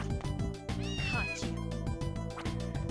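Cat meows in the video game Castlevania: Order of Ecclesia, a rising, wavering cry at mid-clip over steady, loud looping game music with rhythmic percussion.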